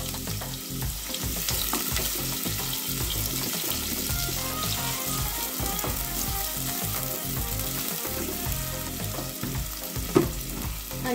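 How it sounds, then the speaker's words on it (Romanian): Onion sautéing in oil in a pan gives a continuous, close, busy sizzle and crackle that stays steady throughout, with occasional faint clinks. "Punem ceapa la călit."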